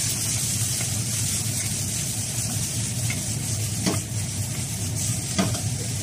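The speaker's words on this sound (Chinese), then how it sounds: "小火慢炒，防止它糊锅。" Eggplant stir-fries with pork, chili and scallion in a wok, giving a continuous close sizzle with spatula stirring and a couple of sharp metallic clinks.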